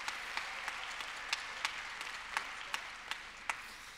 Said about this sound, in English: can we have another round of applause for our EMC teams?